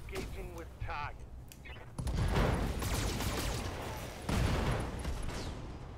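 Heavy mech weapon fire in the video game Battletech erupts in two loud bursts of booming, crackling blasts, with a brief voice heard before the barrage.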